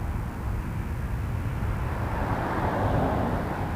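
A Boeing 787 Dreamliner lands at Toronto Pearson Airport, giving a brief, broad rumbling roar that swells slightly toward the end.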